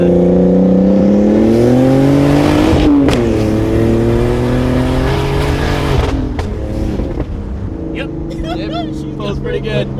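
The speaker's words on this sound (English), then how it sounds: "Little second gear hit, low boost, like I said." A turbocharged BMW E46 pulls hard in second gear on low boost, its engine note climbing steadily and loud from inside the car before a shift and a lower-pitched continuation, with brief talk near the end.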